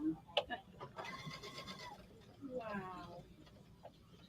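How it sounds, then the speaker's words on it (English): An XP3 sewing machine running in reverse at a store demonstration gives a whirring, whining motor hum in two bursts, rising and falling, with talk in the background. "Now I want it to sew backwards."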